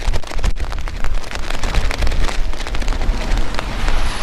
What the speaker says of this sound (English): A little bit of rain out here.